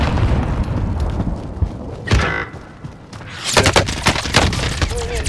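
A grenade blast and bursts of gunfire in a Call of Duty: Warzone trios match: a heavy boom at about two seconds, then a dense, loud volley of shots and impacts after a short lull, with faint voices now and then.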